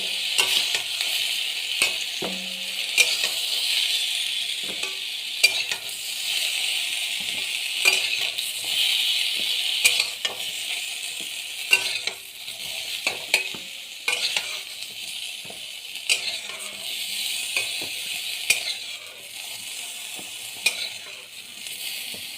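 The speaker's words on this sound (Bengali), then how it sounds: "এবার বেগুনটা ভাজা হতে থাক 2 মিনিট" Eggplant pieces fry in oil in a pan as they are stirred. A steady moderate sizzle runs under repeated clicks and scrapes of the utensil against the pan, with no talking.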